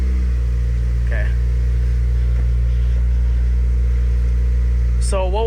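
A turbocharged 2009 Honda Civic Si idles steadily with a constant low engine hum in a garage, and a faint whine rises briefly near the end. A voice may be present under the engine.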